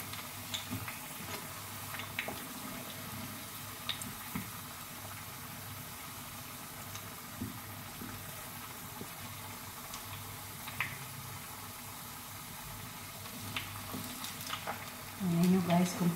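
Caramelized sweet potatoes for Filipino camote cue fry and stir in hot oil, a steady soft sizzle with scattered scraping ticks, fairly faint, under a low background hum.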